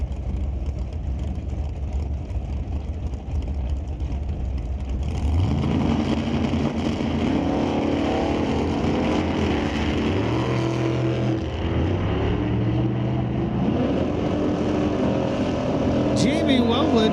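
Drag race cars launch at Mission Raceway in a National Open Series event: a steady engine drone gives way to a loud surge of revving, rising and shifting engine tones that carry on at length, heard from trackside.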